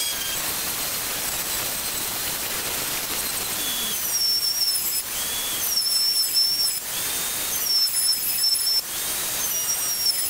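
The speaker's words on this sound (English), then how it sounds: "I'm just going to give them a sanding" A power sander works over wooden bed slats for a toddler bed, knocking off sharp edges and splinters. It gives a loud, steady grinding hiss with a high whine that pulses in a few bursts.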